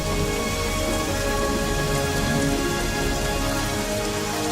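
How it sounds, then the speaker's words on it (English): Steady, dense rain pours down inside a temple in an animated film, a loud continuous hiss of drops on surfaces throughout, with no voices. "It's raining inside the temple."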